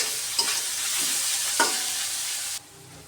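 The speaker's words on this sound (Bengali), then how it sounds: "এখন পেঁয়াজগুলো সব একসাথে দিয়ে ভেজে নিব।" Onions fry in a pan in a home kitchen, a continuous bright sizzle with a few stirring scrapes before the sound drops off sharply near the end.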